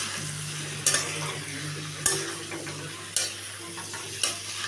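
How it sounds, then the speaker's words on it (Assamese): A spoon stirs jackfruit curry frying with spices in a pan. About four sharp scraping strokes come at regular intervals over a soft, constant sizzle. "এয়া দেখিছে মই কঁঠালখিনি ভাজিয়ে আছোঁ।"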